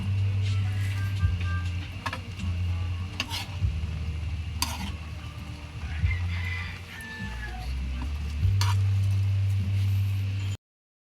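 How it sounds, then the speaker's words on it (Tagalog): Vegetables and corned beef being stirred in a pan, with repeated close scrapes and clacks of a utensil over a steady sizzle and a low background hum. "Haluin po natin para ma-mix po."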